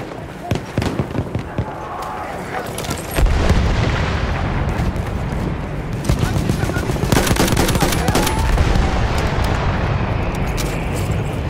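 Gunfire crackles in rapid bursts and a grenade detonates with a heavy boom on a Battlefield 1 battlefield at Monte Grappa, the shooting continuing loud and dense as soldiers shout in German.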